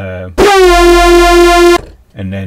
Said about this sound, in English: you just got the oscillator frequency going crazy at the start of the note